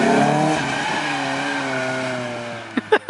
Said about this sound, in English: First gear bogging.